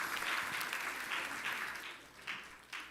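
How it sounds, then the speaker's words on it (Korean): A church congregation at a Christmas Sunday worship service applauds with a soft, continuous patter of clapping that sounds somewhat distant and tapers slightly toward the end. "박수."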